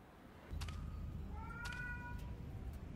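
A cat meows once, long and wavering, after a brief chirp, fairly faint over a steady low hum.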